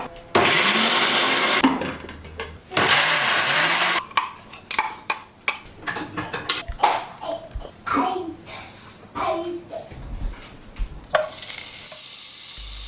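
Blender grinding garlic, ginger, green chilies and seven small tomatoes into a paste, loud whirring bursts starting and stopping between stretches of speech.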